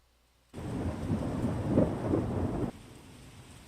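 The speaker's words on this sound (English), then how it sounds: "this rain and thunder is nice" A steady rain and thunder sound sample, with a low rolling rumble of thunder, swells in abruptly, holds for about two seconds, then cuts off, leaving faint hiss.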